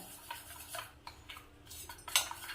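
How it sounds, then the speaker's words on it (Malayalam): A teaspoon stirs a paste of rice flour and egg white for a face pack in a small bowl, giving light scraping and clinking taps at an irregular pace, close and fairly quiet, with no talking. "നമ്മളിത് ആദ്യം ഒന്ന് ടീസ്പൂൺ കൊണ്ട് ഇളക്കിയിട്ട്"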